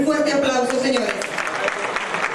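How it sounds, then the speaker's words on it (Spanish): An audience at an award ceremony for radio announcers breaks into steady applause, a dense patter of clapping that runs the whole clip, with a voice talking over it. "Un fuerte aplauso, señores."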